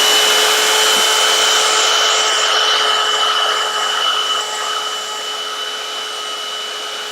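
A vacuum cleaner runs steadily and close up, sucking a fine layer of dust off the roof of a Lego City building, a loud continuous whine that eases slightly toward the end with no talking.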